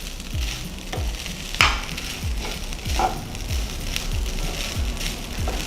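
Coconut rice cooked in coconut oil being stirred in a pan, a steady sizzle under repeated scraping strokes of the spoon, up close with no talk.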